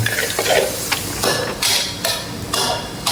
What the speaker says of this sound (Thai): ปรุงเครื่องด้วยน้ำปลา น้ำมันหอย น้ำตาลทราย น้ำเปล่า ผัดทุกอย่างให้เข้ากัน